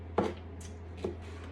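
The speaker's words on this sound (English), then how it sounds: "So I'm chopping here, chopping a whole red pepper" Knife chopping a whole red pepper on a cutting board in a home kitchen, two separate sharp thuds about a second apart over a steady low hum, with no talking.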